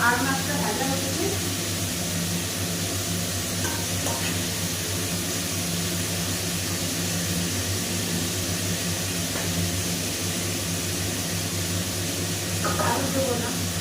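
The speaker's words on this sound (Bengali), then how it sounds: "তো আর মাছটা ভাজা হচ্ছে।" A large fish frying in hot oil in a home kitchen, a continuous sizzle layered over a steady low hum, with occasional clinks; someone talks over it throughout.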